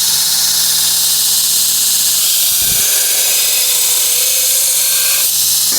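Hot forged steel from a crowbar is quenched, giving a loud, continuous hiss of steam that fills the space steadily for several seconds with faint clinks underneath.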